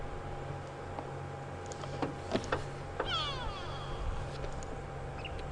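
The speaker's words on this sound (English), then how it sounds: "You can possibly hear a go-away bird calling in the distance." A go-away bird calls far off during a sunset safari drive, its few faint, nasal, drawn-out cries rising briefly above a low, steady background hum.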